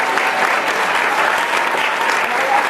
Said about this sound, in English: we just want to give all these ladies a round of applause.